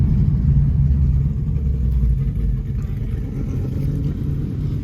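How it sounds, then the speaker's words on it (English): A 2024 Ford Mustang Dark Horse with the drag pack launches off idle at a dragstrip, its engine roaring in a loud, steady low rumble that holds for several seconds with no talking. "And that was just launching off of idle."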